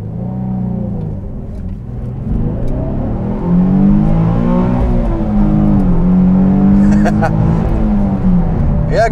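Nissan 350Z with its 3.5-litre V6 revving up and down close by, a loud sustained engine note rising and falling in pitch over several seconds, with a voice speaking over it.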